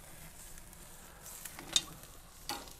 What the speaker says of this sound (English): Get that good sear on there.